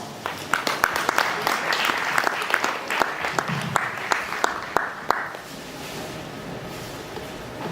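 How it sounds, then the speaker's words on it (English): A conference audience at the G20 YEA Summit in Fukuoka claps, with sharp individual claps standing out over a lively round that thins after about five seconds, leaving room ambience and faint voices. "Give them a big round of applause"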